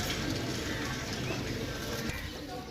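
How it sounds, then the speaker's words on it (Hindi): Pigeons coo softly at a pigeon sale in Sarai Alamgir, their low murmuring calls faint beneath steady background noise and occasional soft movement. "ए कबूतर है"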